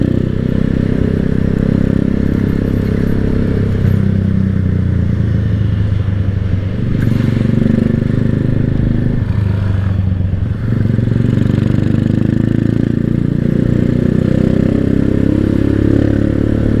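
A Keeway CR152 motorcycle engine runs steadily during a noon-time ride, with a strong low rumble and wind noise close up and continuous throughout.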